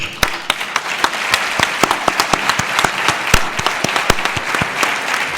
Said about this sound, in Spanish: le damos gracias con el último aplauso